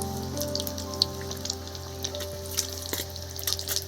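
Potato chops frying in hot oil, a steady close crackle and sizzle with scattered sharper pops, under a faint hum.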